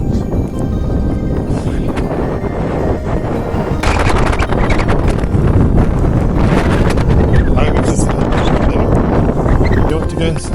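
Strong wind blasts across a hilltop in the Shropshire Hills in extreme weather, a loud continuous roar and buffeting rumble against the microphone, with a voice partly buried beneath it.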